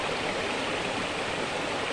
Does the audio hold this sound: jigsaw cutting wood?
no